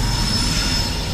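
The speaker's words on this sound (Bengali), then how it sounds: "এই দেখতে পাচ্ছ ট্রেন যাচ্ছে," A train rolls past at a Kolkata railway station, a steady loud rumble of wheels and carriages filling the whole moment, close by and without talk.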